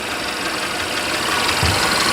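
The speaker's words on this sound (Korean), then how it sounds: "엔진 소리 정숙하죠 4기통인데" A Mercedes four-cylinder car engine idles at close range, giving a steady, even mechanical hum with a faint low knock and no break for its whole length.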